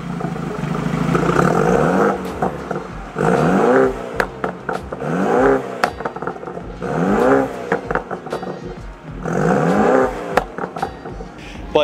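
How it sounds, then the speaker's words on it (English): A BMW F30's engine revs repeatedly through a loud AWE Tuning aftermarket exhaust, each rising roar dropping back to a burbling idle, close by and without talk. "So exhaust wise, we went with AWE tuning. Exhaust, I absolutely love it. It sounds really good."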